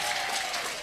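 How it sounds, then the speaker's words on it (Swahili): A church congregation breaks into steady, dense applause, a full crowd clapping together in a brief burst with no voices on top. "Makofi kwa Yesu."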